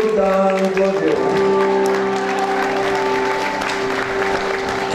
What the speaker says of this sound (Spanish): De Olivera con un fuerte aplauso.